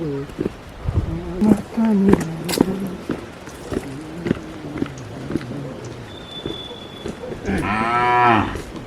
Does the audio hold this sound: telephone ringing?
no